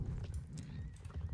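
A horse in a horse-training video game clip-clops with quick, rhythmic hoofbeats and gives a whinny, close and fairly loud over a continuous low rumble.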